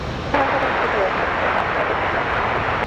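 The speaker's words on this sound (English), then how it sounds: "United 2288 off to Denver, that 737 MAX 8." Boeing 737 MAX 8 taking off from Raleigh Durham airport in windy weather, a loud steady engine roar that swells in abruptly and holds strong throughout, with wind noise mixed in.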